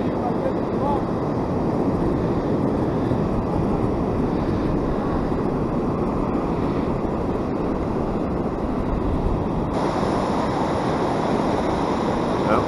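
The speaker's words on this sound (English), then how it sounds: "That's the waves." Ocean surf on the Oregon coast, heard from the beach while surf fishing, rolls as a steady broadband roar of breaking waves that stays constant throughout.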